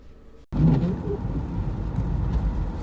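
A VW Touareg with a tiptronic automatic transmission cuts in abruptly from near silence to a steady, close engine and road rumble that rises slightly, with no distinct shift clunks standing out.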